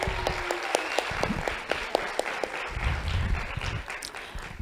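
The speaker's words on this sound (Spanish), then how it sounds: "Fuerte aplauso para ella." A conference audience applauds warmly for an arriving panel speaker, steady dense clapping that fills the room without a pause.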